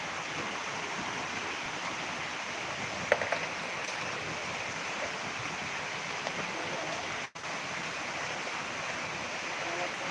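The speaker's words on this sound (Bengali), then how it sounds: "প্রচুর বৃষ্টি" A steady, dense roar of heavy rain pours down without letup, broad and hissing, with a brief dropout near the end.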